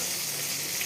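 Magur catfish frying in hot oil gives a steady, close, loud sizzle that runs continuously without pause and without voices.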